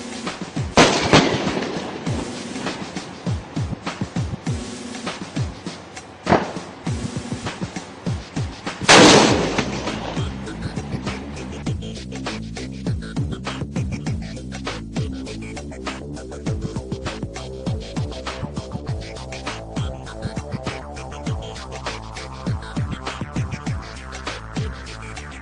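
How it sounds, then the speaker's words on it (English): Military live-fire attack exercise with artillery and armor, heard as a sharp loud blast followed by a dense run of rapid gunfire-like bangs and rumbling reports, some near and some distant, continuing throughout without speech. "an attack exercise with live firing and involving Air Force, aviation, artillery and armor as well"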